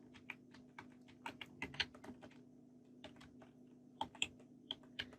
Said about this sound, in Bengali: ইউটিউব হ্যান্ডেল, লিখে জাস্ট এন্টার প্রেস করি